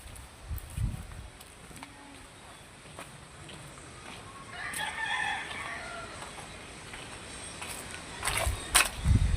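Chickens and roosters at a chicken farm cluck and call intermittently at a distance, with a louder burst of clucking midway, amid outdoor background noise and occasional bumps close by.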